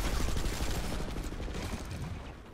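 Gunfire in the video game Planetside 2: dense, continuous rapid fire crackling close and loud, with shots blending into a rough roar that eases slightly toward the end.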